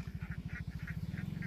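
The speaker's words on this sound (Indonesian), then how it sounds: "aktivitas menggembala itik di sebuah daerah di Sumatera Barat" A flock of ducks being herded in West Sumatra gives a dense, rapid run of nasal quacks, steady and close, with a few higher calls layered on top and no voices.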